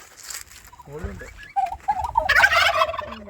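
A turkey gobbles on a farm, a rapid warbling burst of calls that rises in the middle and repeats, close and fairly loud, with other bird sounds and a little background noise around it.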